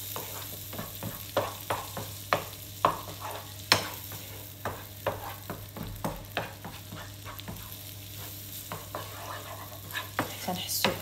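Garlic fries in melted butter in a pan for broccoli feuilletés, with a soft continuous sizzle under repeated scraping stirs of a utensil at a regular pace.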